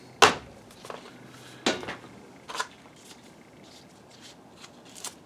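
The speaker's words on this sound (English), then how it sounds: "I'll just crumple up the end so I can peel it off." Crumpled tape is peeled off during a water-damaged Optoma HD37 DLP projector repair. It gives a few sharp, close crackling rips separated by quieter rustling.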